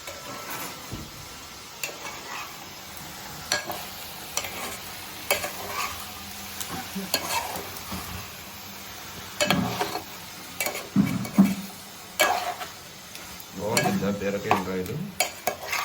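Ridge gourd with prawns, salt and turmeric being stirred in a pan, a soft continuous sizzle broken by irregular scraping and clinking of a spoon against the metal, close up.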